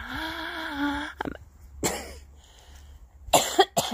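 A person coughs several times, harsh bursts separated by short pauses, close by and fairly loud.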